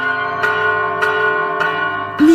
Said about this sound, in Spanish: Miren cómo sonríe con el sonido de las campanas.